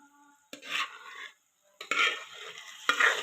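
Cooked dal poured into a hot tempering in a pan, set off by a stirring spoon in three sharp bursts of loud hiss and sizzle, each fading quickly, separated by near silence.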